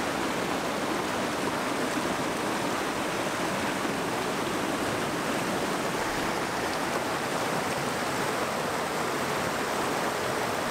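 A mountain spring stream in Waziristan rushes steadily and loudly close by, a continuous broadband wash of water with no pauses and no voices over it.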